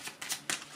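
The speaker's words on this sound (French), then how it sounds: "On va tirer une carte quand même sur" A tarot card is slid from the deck and drawn, a few quick papery swishes and flicks, close and fairly quiet, with no talk.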